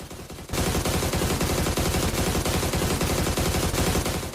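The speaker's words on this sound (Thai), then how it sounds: "หยุดยิงไม่ได้ดิ" Rapid automatic gunfire in a video game bursts in after a brief quieter moment and then hammers on without pause, loud and close, in an unbroken rattling stream.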